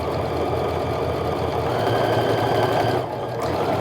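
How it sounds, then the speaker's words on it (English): Sewing machine stitching quilting fabric pieces along a drawn line, running loud and continuous at close range with a steady mechanical hum, then easing briefly near the end. "All right, so now I'm just sewing down"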